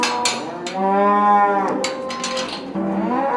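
Cows moo loudly and close by, several long drawn-out lowing calls one after another, with some clanks in between.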